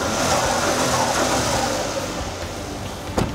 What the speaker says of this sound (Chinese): 这颗1500cc 的直列三缸的涡轮增压引擎，刚刚还有令人非常振奋、热血的泄压阀的声音呢